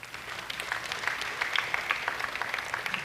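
A church congregation applauds through a sermon, a dense, sustained round of clapping from many hands, fairly loud and even throughout.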